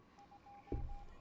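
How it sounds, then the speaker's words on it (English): Short electronic tone sequence from a phone in the video game Honkai: Star Rail, a string of faint, evenly spaced beeps followed by a louder low thump, with no talking. "The phone sound."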